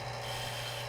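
A woodturning lathe tool cutting into spinning red oak, a steady, dense, close scraping and hissing drone that holds without a break.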